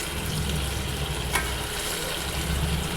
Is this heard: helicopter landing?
no